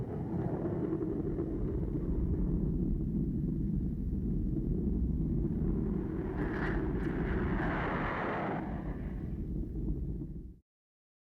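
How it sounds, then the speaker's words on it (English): A Bell P-59 jet aircraft flies past with a steady roaring engine rumble and a brief rising whine, then cuts off abruptly. "the novel sound of a jet engine"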